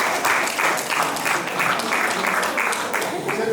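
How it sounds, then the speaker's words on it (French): Audience at a comedy show claps in a steady rhythmic beat, bursts repeating about twice per second, loud and close throughout. "Applaudissez pour vous-même."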